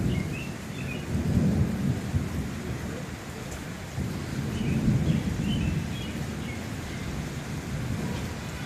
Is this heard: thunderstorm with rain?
yes